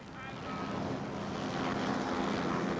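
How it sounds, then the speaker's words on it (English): Police helicopters hover and slowly circle above a river on a hot summer night, their engine and rotor noise a steady, loud drone throughout. "Police helicopters threw light on the water from their positions, hovering and slowly circling above."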